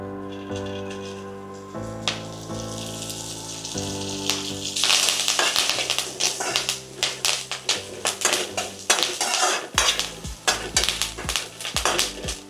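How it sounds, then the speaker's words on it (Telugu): Curry leaves lightly frying in a pan for homemade chilli powder, a steady sizzle with repeated clinks and scrapes of stirring that grow busier and louder partway through, with faint background music and no voices. "ఈ కరివేపాకు కూడా లైట్గా ఫ్రై చేసుకుందాం."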